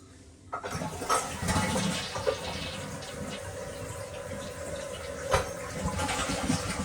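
A toilet tank refills with water after a flush while a sewer smell is being tracked down, a steady hiss of running water lasting throughout at close range, with a few brief knocks and no talking.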